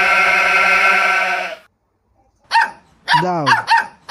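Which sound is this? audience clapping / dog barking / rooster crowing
dog barking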